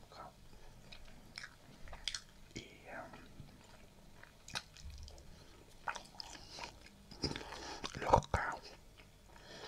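Liver being chewed with soft, close whispered ASMR mouth sounds, small squishy bites and crunchy smacks scattered across the clip, with quiet whispering in between.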